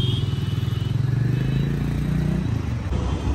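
A new Bullet motorcycle engine putters steadily nearby, its low rhythmic thrum slowly fading as it pulls away.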